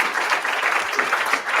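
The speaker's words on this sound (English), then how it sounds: "Please give General Daniels a big round of applause" Audience applause for General Daniels, Chief of the US Army Reserve, at an AUSA Coffee Series event: steady, dense clapping from a crowd filling the whole short stretch at even loudness.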